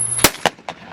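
Sharp shotgun reports at clay targets on a shooting range, three close, loud cracks in quick succession, each with a short decay, with no talking.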